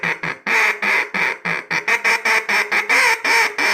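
Duck call blown to imitate a hen mallard's quacking for duck hunting, a loud, close series of sharp quacks in uneven rhythmic bursts, some short and choppy, others drawn out, with no talking.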